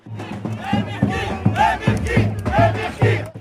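Crowd noise around the mayor, a candidate for re-election, on a walkabout in Saint-Josse-ten-Noode: busy overlapping voices and shouts of a close, lively street crowd, with steady murmur and repeated louder calls throughout.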